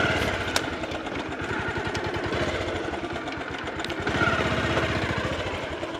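A motorcycle engine chugs with a rough, pulsing idle and throttle on a muddy, slippery mountain trail, the rhythmic engine beat steady and close throughout.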